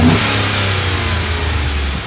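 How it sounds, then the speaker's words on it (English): A 2013 Chevy Tahoe PPV police SUV engine revving up and holding at a steady, loud roar, a continuous close mechanical drone with no talking. "Now I'm gonna rev it up so you can hear it."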